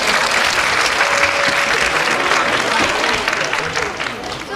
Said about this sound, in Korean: 힘찬 박수 한번 부탁드리겠습니다